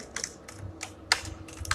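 Fingers tap a computer keyboard as a domain name is typed. Several crisp, quiet keystrokes come in an uneven rhythm, close by, with no talk.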